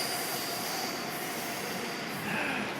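A loud train rumbles past on the tracks in Tokyo, a continuous roar with wheel squeal running throughout, close by and with no talk.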